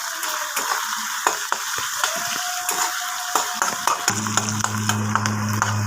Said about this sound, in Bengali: এই দেখুন আমার পেঁয়াজটা মোটামুটি ভাজা হয়ে গেছে